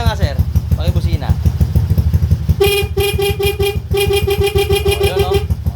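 Horn on a Suzuki Skydrive 125 carbureted scooter with a faulty stator coil, honking in two steady bursts of about a second each over a constant idling engine rumble, with a voice briefly heard beforehand.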